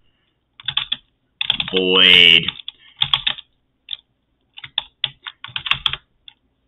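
Bursts of rapid clicky typing on a computer keyboard while configuring emacs, close and crisp, in irregular clusters with pauses, and a brief spoken word midway.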